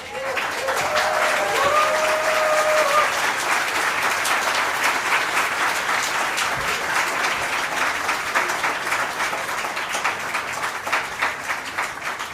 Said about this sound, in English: Please, another round of applause for our incredible organizer.